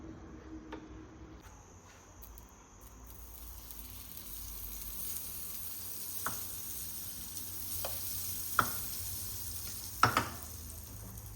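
Stuffed food fries on a stove with a faint, steady sizzle. A few soft clicks and taps from handling the pan sit on top of it.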